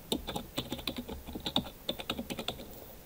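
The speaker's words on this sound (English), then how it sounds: "I'm going to type in my password." A password is typed on a computer keyboard, a quick run of distinct clicky keystrokes in uneven bursts, close and fairly quiet, with no talking.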